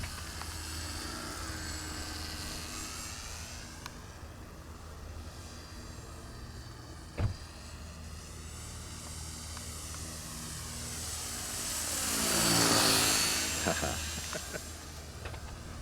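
A Hobbyking Auto G2 V2 RC gyrocopter drones steadily overhead with a buzzing motor and a whooshing rotor, then swells louder as it passes close around the middle before fading back.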